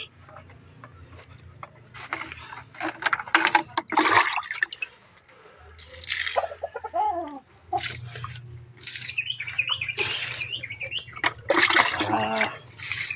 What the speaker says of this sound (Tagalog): sabay dilig na rin po yung ibang halaman